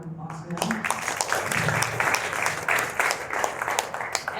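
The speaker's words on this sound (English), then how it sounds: "So just one more round of applause for them." An audience gives a round of applause at a September 2021 gathering, with dense clapping running steadily throughout while a voice talks over it.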